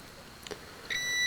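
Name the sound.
multimeter continuity test beeping on drone board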